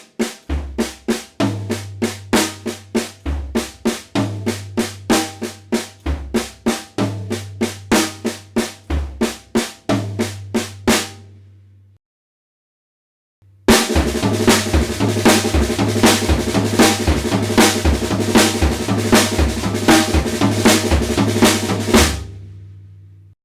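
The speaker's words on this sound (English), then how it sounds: "putting our first beat on snare, and then bass, and then floor tom." A drum kit plays a repeating triplet pattern across snare, bass drum and floor tom, loud and close, with a short pause before a busier second run.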